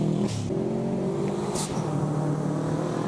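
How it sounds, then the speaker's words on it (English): A turbocharged flat-four Subaru WRX with four-wheel drive revs hard at a rally sprint, its engine note climbing and shifting through gears in steady, fairly close, loud acceleration with no talk. "Here we have another WRX Subaru. That flat engine, turbocharged four-wheel drive car."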